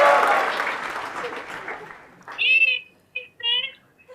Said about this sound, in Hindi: आपके लिए अभी यहाँ पर सब लोगों ने बहुत बड़ी तालियां बजाई